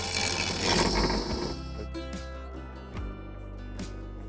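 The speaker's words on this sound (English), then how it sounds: "Now we put it in the jig here, spin up the grinder," Bench grinder sharpening a woodturning tool held in a jig: a rough, loud grinding rush for the first second and a half, then the motor's steady hum with a few brief scraping touches.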